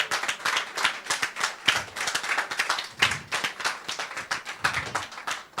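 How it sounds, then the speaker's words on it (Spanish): A church congregation claps together, sharp individual hand strikes forming a loose, rhythmic pattern, moderately close and without talk over it. "Dale un aplauso, Señor, y vamos."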